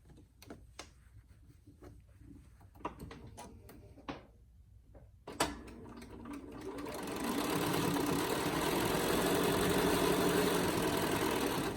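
Scattered clicks and taps of handling first, then a home sewing machine whirs up and runs steadily, stitching along the edge of a fabric face mask with a pocket, close by and with no talking.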